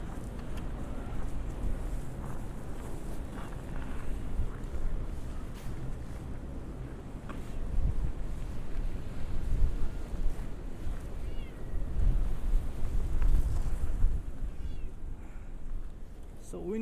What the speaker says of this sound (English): So wind is like pushing me over.